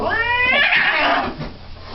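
A cat at a veterinary visit yowls angrily in a loud, drawn-out rising caterwaul that swells and then fades into a lower growl, heard close with no talking over it.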